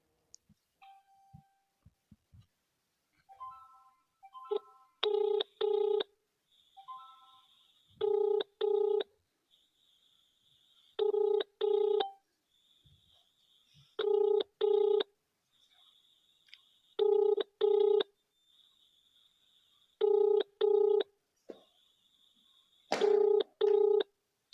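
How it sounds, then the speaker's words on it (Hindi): A phone number is keyed in with a quick run of dialing tones, then a telephone ringback repeats in regular paired bursts with pauses, clear and moderately loud against a quiet background. "उनका फ़ोन नंबर हम लगा रहे हैं"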